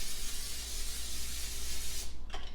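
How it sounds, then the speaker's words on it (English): Cooking spray misted into an 8x8 baking pan, one continuous loud, close hiss that stops near the end with a faint click. "Give it a good spray"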